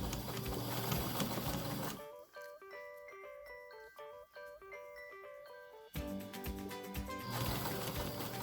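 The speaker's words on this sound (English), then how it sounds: "I just want to make sure that my needle is catching that layer of fabric and landing right between the piping." Sewing machine stitching upholstery fabric along piping, a run of rapid, evenly spaced mechanical stitch ticks of several seconds set between louder stretches of broadband noise at the start and end.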